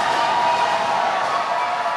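Spectators at a 2019 LA Derby Dolls roller derby playoff bout cheer for the Tough Cookies, a brief, sustained wash of crowd noise with no clear peaks.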